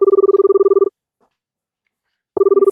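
A telephone rings indoors in a home with loud, close trilling tones: one long ring burst, a pause of about a second and a half, then a second ring begins.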